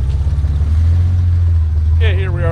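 Close by, a 1978 Datsun 280Z with its L28 engine idles with a loud, deep rumble. Near the end it is given a short, light rev that rises in pitch.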